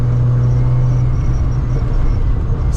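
A 1983 Volkswagen GTI MK1 with its small 90 hp engine gives off a steady, loud, close low exhaust drone, a continuous rumbling hum that holds without a break.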